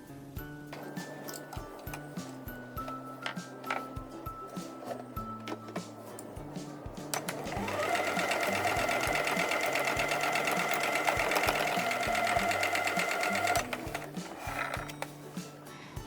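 Sewing machine stitching a new seam on a quilt block, running in a steady, loud whirring burst for several seconds, with lighter start-stop clicks and handling before and after, no talking.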